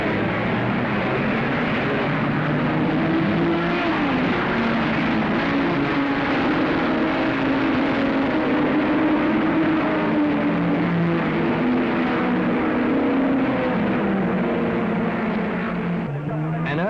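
Racing cars roar away from the start, the Border Reivers Aston Martin driven by Jim Clark in front, followed by Salvadori and Moss, a dense continuous engine drone that rises and falls slightly, loud and sustained with no clear speech.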